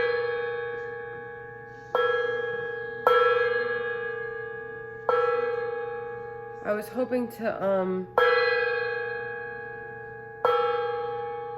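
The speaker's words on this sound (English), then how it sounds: "I got this gong." A gong struck for sound healing rings out several times at spaced intervals, each stroke a bright shimmering tone that decays slowly, with a brief spoken phrase between strikes.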